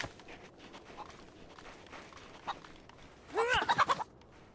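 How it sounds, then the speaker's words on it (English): Chicken in the video game DayZ gives a short burst of clucking and gobbling calls near the end, after quiet ambient noise and a soft footstep-like knock. "Where's the chicken gone?"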